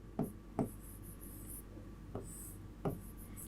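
Four faint, separate taps of writing on a board during a Class 12 chemistry lesson on surface chemistry, spaced unevenly against a quiet hiss with no talking.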